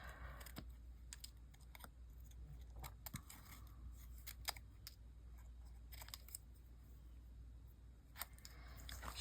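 Scissors make soft, scattered snips while trimming a paper figure for a collage, faint and close over a low steady hum, with irregular gaps between the cuts and no voices.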